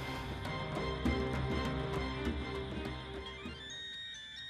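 A mobile phone ringtone plays a bright melodic tune in a quiet room, with repeated tonal notes at moderate volume that fade toward the end.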